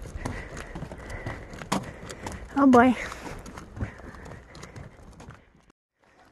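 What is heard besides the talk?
horses walking on a trail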